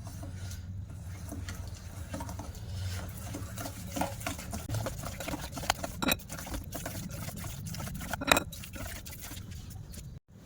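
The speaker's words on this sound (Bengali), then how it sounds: "ভালো করে এগুলো মিশিয়ে নেব।" A batter of semolina, yogurt, oil and salt being stirred in a bowl, giving soft, wet, continuous sloshing and scraping with occasional sharper knocks of the spoon against the side.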